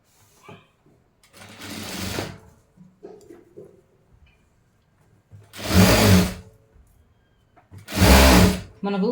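Sewing machine stitching the lining of a long frock made from an old saree, heard as three loud bursts of run stitching separated by quiet pauses and some handling noise.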